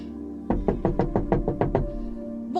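Knocking on a wooden door, eight quick, evenly spaced raps sounding close and firm over a low steady background hum.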